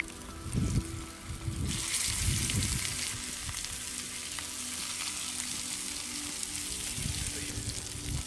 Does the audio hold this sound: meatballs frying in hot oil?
yes